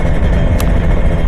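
A Kawasaki Ninja RR two-stroke motorcycle engine runs steadily and loudly up close, a dense continuous drone with one brief sharper rasp midway and no talk.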